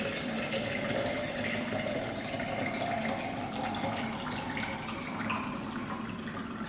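Tap water pours steadily into a water bottle, a continuous close splashing rush with no talking.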